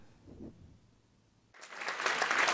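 Applause erupts from a packed experimental theatre audience at an opera-symphonic performance honoring Rossini, starting abruptly after a faint murmur and swelling into dense, loud clapping from many hands.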